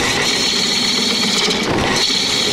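A wood lathe turns a log into a bowl, giving a steady loud whirring drone with rough scraping as the gouge cuts the spinning blank, broken by a brief bump midway.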